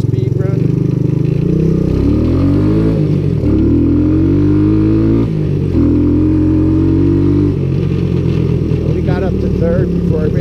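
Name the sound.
1984 Honda ATC200S three-wheeler engine revving on a speed run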